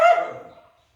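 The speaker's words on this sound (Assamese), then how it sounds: "আমাৰ কুকুৰটোৱে যিমানে ভুকিছে" A pet dog gives a single sharp bark nearby that quickly fades into silence.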